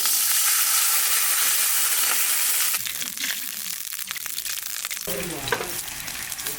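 Nigella seeds and green chillies sizzle in hot oil, a loud steady broadband hiss that shifts midway to a busier, crackling fry with a few spits, with no voices over it.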